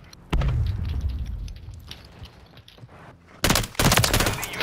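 Gunfire in Call of Duty: Modern Warfare 3, on the Rio map in a Kill Confirmed match: a sharp burst near the start, quieter scattered shots, then a loud, close rapid volley near the end.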